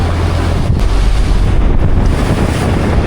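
Strong storm wind roars around a fishing boat out at sea during pomfret fishing, with waves surging close by. Loud, constant gusts buffet the microphone throughout.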